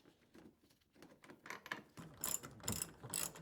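A hand ratchet clicks in quick bursts while driving screws into a 2022+ Subaru WRX tail light, the pawl rattling close and fairly loud over a quiet start.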